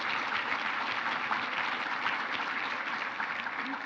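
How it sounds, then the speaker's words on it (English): Sustained applause from a conference audience at a sustainability summit session, a broad, even roar of many hands clapping continuously at moderate distance. "Let's give them a round of applause for the great work."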